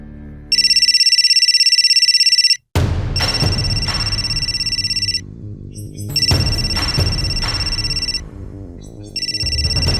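A phone rings in repeated electronic bursts, loud and close, broken up by heavy dramatic music hits and rumbling tension in a crime drama scene.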